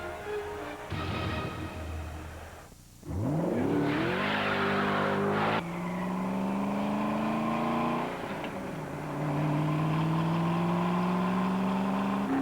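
A car engine revs hard and accelerates through several gear changes in a TV car commercial, the pitch climbing and dropping with each shift, loud and close throughout with no talk.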